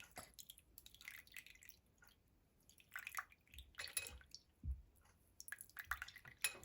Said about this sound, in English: As you can see, all the liquid is going into the jug.